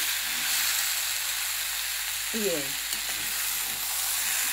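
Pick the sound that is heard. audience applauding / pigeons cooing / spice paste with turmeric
spice paste with turmeric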